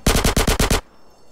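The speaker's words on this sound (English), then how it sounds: "Dang, they got freaking machine guns." A burst of six rapid machine gun shots rings out close and loud in the video game GTA San Andreas, evenly spaced, before cutting off into near silence.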